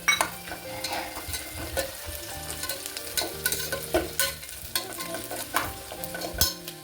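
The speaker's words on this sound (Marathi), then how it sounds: "आत्ता टाकते शेंगदाणे जे भाजलेले आहेत माझ्याकडं" Roasted peanuts go into a hot pan of spiced onions for masale bhat, bringing a steady sizzle with a spatula scraping and stirring in uneven bursts, close and alone.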